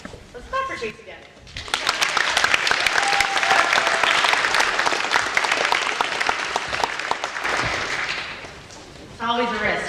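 A school audience at a Rotary speech event bursts into sustained, loud applause lasting about eight seconds, with dense clapping that fades before a voice resumes briefly at the end.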